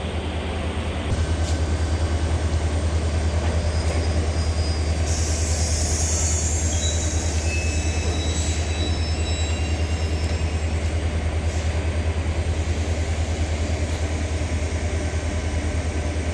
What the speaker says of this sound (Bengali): ট্রেন ছাড়বে আর কিছুক্ষণের মধ্যেই